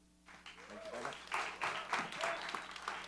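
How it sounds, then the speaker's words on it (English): Audience at a startup pitch meetup clapping for a presenter, a modest room-sized burst of applause that swells after a quiet start and stays fairly soft. "Applause, please."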